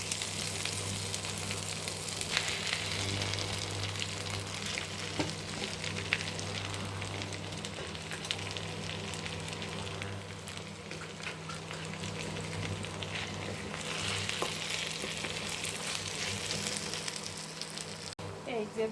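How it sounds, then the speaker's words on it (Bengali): Mankochu taro frying in a pan, a steady close sizzle with occasional stirring clatter and a low hum under it throughout. "এই যে ভাজি করছি"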